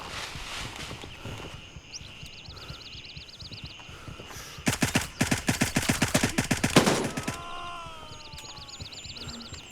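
Gunfire in a video game: a burst of rapid, evenly spaced shots rattles loudly for about two seconds midway, between quieter stretches of game ambience and scattered beeps.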